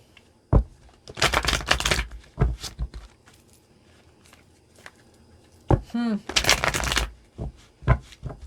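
Tarot cards are shuffled in several quick riffling bursts, crisp and close, with short pauses between them and a brief voice in the middle.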